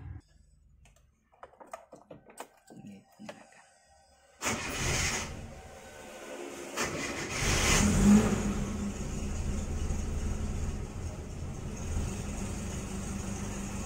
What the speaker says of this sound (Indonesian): Ini dinyalakan dulu ya guys, saya panasin dulu mesinnya.